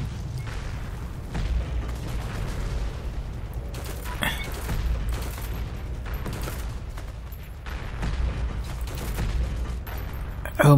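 Heavy-recoil gunfire in the shooter Heroes & Generals during a fight to take a church: repeated booming shots and bursts at irregular intervals over a low rumble, with a voice talking intermittently.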